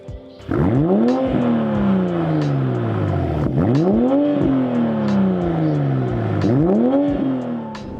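Inline six-cylinder car engine fitted with an AWE aftermarket exhaust, revved hard three times in succession, each rev climbing sharply then falling away slowly, loud and close with a raspy exhaust note and no talking.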